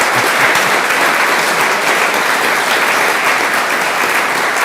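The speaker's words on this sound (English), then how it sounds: "Would you please give them another round of applause?" An audience applauds a panel of experts at a talk on conservation of a portrait, giving a dense, steady round of clapping close by that holds at full strength throughout.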